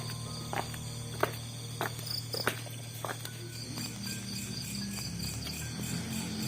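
Crickets chirp steadily and shrilly in a continuous outdoor chorus, with scattered light tapping and rustling sounds nearby and no talking.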